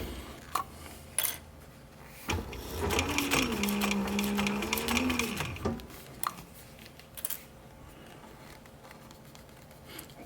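A sewing machine stitches through a military patrol cap, starting after a few soft handling clicks and running in one steady, loud, close burst of a few seconds before stopping, followed by light fabric rustling.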